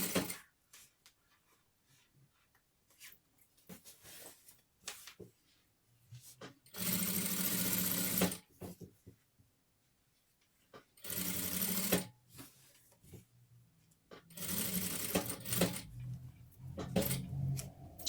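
Overlock serger stitching sweatshirt fleece trimmed with pink satin: three loud, steady whirring bursts of a few seconds each, separated by quiet pauses with small handling clicks.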